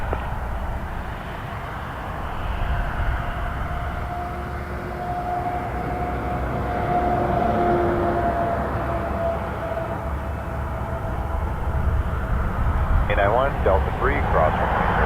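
An airliner taking off from runway 05 at Toronto Pearson Airport at night, a sustained engine roar rising gradually with a faint whine, heard at a distance while radio chatter plays over it.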